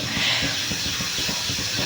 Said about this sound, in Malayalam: അപ്പോൾ നമ്മുടെ ഓട്സ് തിളച്ച് വന്നിട്ടുണ്ട്.